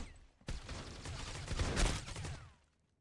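A flashbang grenade detonates in a video game: a sudden loud burst followed by a dense, rumbling crackle that swells for about two seconds and then fades out.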